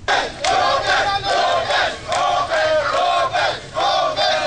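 An agitated crowd gathers outside a courthouse, with loud overlapping shouts and chanting rising and falling in repeated surges, close and sustained throughout.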